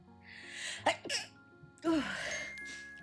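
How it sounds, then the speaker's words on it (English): A single sneeze from a person at home, preceded by sharp gasping breaths, then a loud burst followed by a trailing exhale, close to the microphone. "Oh, I need to sneeze."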